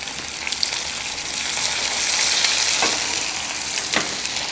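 Cumin, fenugreek, garlic and small sambar onions frying in hot oil for a kara kuzhambu, giving a steady, dense sizzle that swells slightly midway, with a few sharp crackles and pops near the end.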